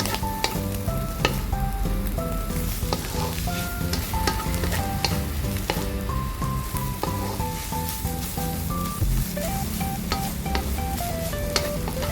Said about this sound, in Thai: เราก็จะผัดต่อไปอีกนะคะ